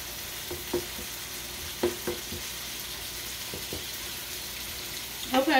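Ground beef browns in a pan, giving a steady low sizzle with a few scattered scrapes and stirring clatters, heard close and without talk.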